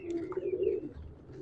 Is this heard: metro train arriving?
no